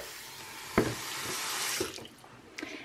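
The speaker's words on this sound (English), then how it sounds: "So what I'm going to do now is I'm going to rinse this out." Hairbrush and comb rinsed under a running tap, with a steady close hiss and splash of water and a few clicks and knocks against the sink.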